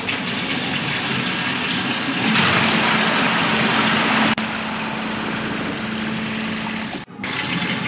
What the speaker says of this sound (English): turn on the pumps and fill it up with water